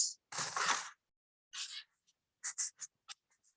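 A marker squeaks across a paper kite in several short, crisp strokes separated by pauses, close up and fairly quiet, with no one talking.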